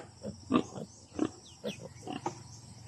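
A sow with her piglets grunts and squeals in a farm pen, short repeated snorts and higher squeaks close by at an uneven rhythm.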